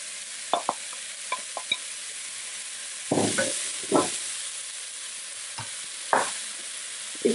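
Peppers, spring onions and garlic, with a little sugar and pepper, fry in a pan. A steady sizzle runs throughout, with close scraping stirs breaking through at irregular moments. No one speaks.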